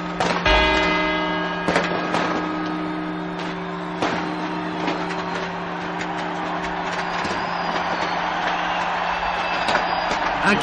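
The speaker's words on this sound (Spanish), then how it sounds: "Aquí comienzan las 12 campanadas." A heavy clock tower bell strikes twelve at a measured pace, the ringing overlapping with a low, continuous background rumble.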